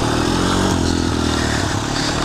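A Honda 250EX ATV with a five-speed semi-automatic gearbox, left outside for ten years, runs close by with a loud, rough, rattling engine note and slight clatter, steady throughout the short stretch.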